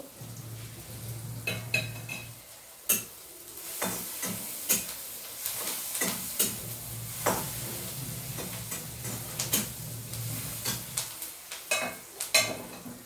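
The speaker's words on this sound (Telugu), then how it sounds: "ఈ చిక్కుడుగా ముక్కలు ఉడుకుతున్నాయండి." Pieces of broad beans cooking in a pan make a low steady simmer, broken by repeated metallic clinks and scrapes of a utensil stirring against the pan, close and fairly quiet.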